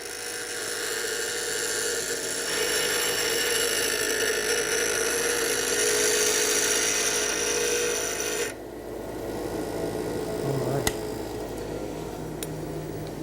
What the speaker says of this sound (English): Now that I've quickly shaped the bevel at the grinder